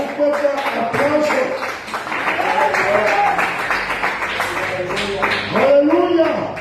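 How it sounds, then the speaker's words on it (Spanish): Church congregation applauding during a Spanish-language sermon on the blood of Christ, steady clapping that fills the room while voices call out and cheer over it throughout. "Dale un fuerte aplauso."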